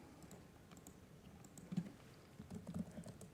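Short bursts of typing on a computer keyboard, soft uneven key clicks up close, quickening toward the end with no talk.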